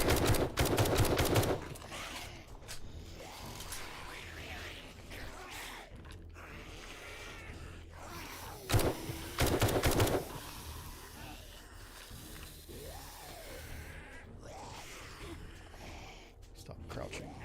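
Rifle gunfire in the 7 Days to Die video game: a loud burst of rapid shots at the start and another sharp cluster near the middle, with quieter game ambience and mechanical clicks in between.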